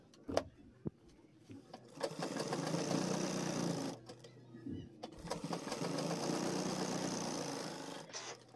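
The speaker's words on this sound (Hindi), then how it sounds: "यहाँ पर इस तरीके से सिलाई लगा देना है" A sewing machine stitches the lining of a pant belt, running in two sustained close bursts separated by a short pause, with clicks at the start and no voices.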